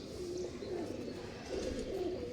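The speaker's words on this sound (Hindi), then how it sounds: "ये हरी भाई का फिरोजपुरी कबूतर है।" A Firozpuri pigeon coos softly nearby in low, rolling, repeated phrases over a faint steady background hum.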